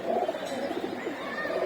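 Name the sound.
pigeon cooing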